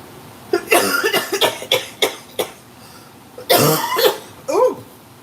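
Several harsh coughs in quick bursts, loud and close, with a pause and then two more coughing fits.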